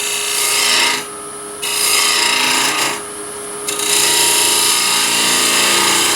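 Wood lathe cutting a lidded ring box, a steady broadband rasping scrape of the tool on spinning wood with a constant motor whine, dipping briefly twice as the cut lightens, close and loud with no talk.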